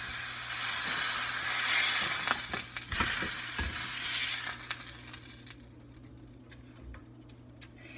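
A burger patty frying in a pan, loud bright sizzling that fades gradually, broken by several sharp scraping and clicking knocks from a utensil.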